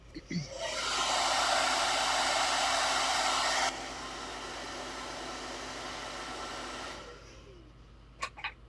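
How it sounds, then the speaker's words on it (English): A hair dryer blasts steadily over a mixed media painting, loud at first and then dropping to a lower setting before switching off, followed by a couple of faint clicks. "I'm gonna blow dry just for a quick second here"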